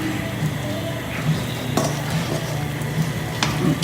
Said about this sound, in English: So we're stirring here.